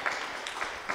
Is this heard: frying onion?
no